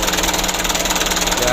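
An engine idles steadily while its fuel pump plunger is being adjusted, giving a loud, continuous, rhythmically pulsing drone throughout.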